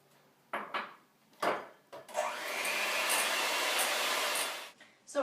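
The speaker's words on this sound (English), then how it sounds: "we're going to mix those in with the rest of our batter so far" Egg whites being mixed into a carrot cake batter, with a few clinks and scrapes in a bowl, then a steady whirring stretch of several seconds that stops abruptly.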